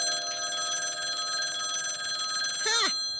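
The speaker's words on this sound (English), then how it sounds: "your phone will be ringing off the hook." A telephone bell rings steadily and continuously, bright and insistent, with a brief voice-like sound near the end.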